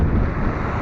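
Strong wind buffets the microphone while riding into a gusty crosswind on an open road near fields, a loud, steady low roar with constant rumbling throughout and no speech.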